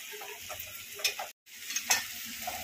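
Bitter gourd (karela) sabzi fries and is stirred in a pan, with a constant sizzle broken by scraping strokes and a short silent gap before the stirring resumes.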